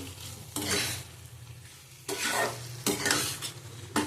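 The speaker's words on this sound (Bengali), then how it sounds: "আবার একটু কষিয়ে নেব।" Shrimp and taro curry with a pinch of sugar is stirred in a hot pan, giving bursts of scraping and sizzling in three or four strokes over a low hiss of frying.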